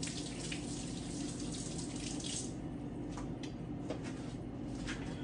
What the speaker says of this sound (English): I gotta rinse my hands off